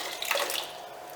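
Water sprayed to rinse a boat hull after Booyah hull cleaner, under the trailer bunks: a brief, steady hiss of splashing water nearby, with no voices.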